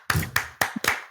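A crowd clapping along on request, four sharp, roughly evenly spaced claps in a quick rhythm, close and distinct.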